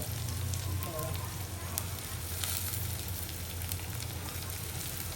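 Chopped tomatoes are sautéed in a pan with cooked onion for a dried shrimp (sukha jawla) dish. They give a continuous, even sizzle with a low rumble beneath.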